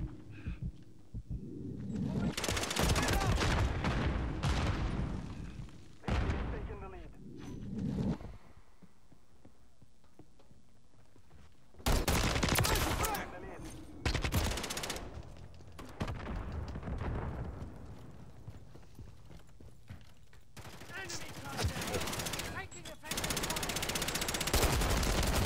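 Rapid bursts of video game gunfire crackle in loud clustered volleys, separated by quieter stretches, with some talk in the mix.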